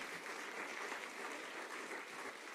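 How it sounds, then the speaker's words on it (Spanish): Church congregation applauding in praise, a steady dense wash of clapping from many hands, fairly faint and distant, with no talk over it. "Dale un aplauso al Señor."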